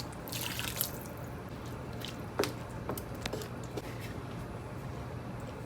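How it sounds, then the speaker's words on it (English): Water pours into a cooking pot with a soft, continuous splashing wash, broken by a few small knocks and drips, fairly quiet and with no talking. "Now add 3 cups of water."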